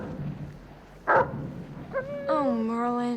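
A dog in the film Labyrinth gives a short sharp bark, then a few high whimpering yips and whines trailing off, heard amid film dialogue and background sound.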